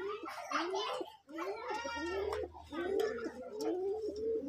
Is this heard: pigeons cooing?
yes